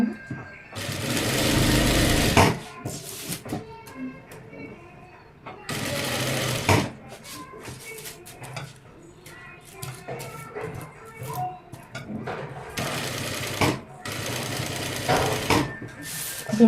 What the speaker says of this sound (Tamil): இருக்கிறத அப்படியே இதில் தையல் போடுறேன்